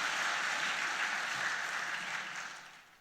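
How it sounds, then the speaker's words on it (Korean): A church congregation breaks into applause during a testimony, a broad, steady patter of many hands that gradually tapers off toward the end. "은혜스러운 교회는 반드시 이때 박수를 칩니다."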